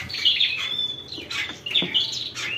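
Oriental magpie-robins, a caged songbird offered for sale, chirp and whistle in bright, repeated high phrases with short squawky notes, close and clear with no talking.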